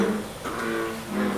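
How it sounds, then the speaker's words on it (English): Thousands of male American bullfrogs croak together on the Jurong Frog Farm in Singapore, forming a dense, steady, low droning chorus that swells and fades without pause. "What you're hearing are thousands of male bullfrogs croaking, many calling for a mate."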